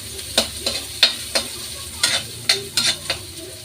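Ginger sautéing in a pan for ginisang munggo, a mung bean stew, with a soft sizzle under repeated close scraping stirs of a spatula, about a dozen strokes in an uneven rhythm.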